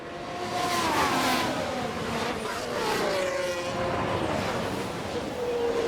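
Formula 1 cars from F1 Manager 24 race at full throttle, engines whining steadily with pitch sweeps as cars pass, a loud continuous blend of several cars.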